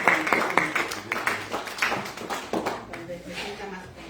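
An audience at a talk on nanosatellite systems gives a brief burst of clapping to welcome a speaker, fading after a couple of seconds while voices continue.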